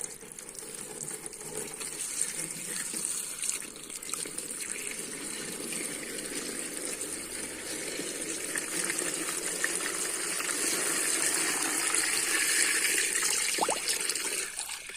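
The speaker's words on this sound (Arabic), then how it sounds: "وراح اضيف المي، بدنا نغمرهم بالمي يعني لفوق مستوى الباذنجان." Water pouring steadily into a pot of eggplants until they are covered, a continuous close gushing rush that grows slightly fuller as the pot fills, with no voices.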